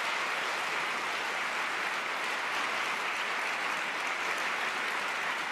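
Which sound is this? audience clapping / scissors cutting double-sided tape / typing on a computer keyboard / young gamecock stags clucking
audience clapping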